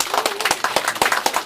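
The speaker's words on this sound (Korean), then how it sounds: "여러분 큰 박수로" Applause at an independence declaration anniversary ceremony, a short burst of brisk, fairly loud clapping with distinct individual claps in a quick, irregular rhythm.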